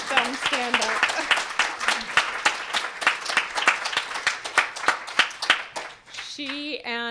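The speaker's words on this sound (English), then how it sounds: "I'd like to give her a big round of applause" Sustained applause from a crowd, dense clapping that continues steadily, with a brief voice near the end as it tapers off.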